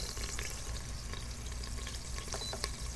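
Pork sears in the hot pot of an Instant Pot on its saute setting, giving a steady, close, broadband sizzle and crackle with small pops throughout and no talking.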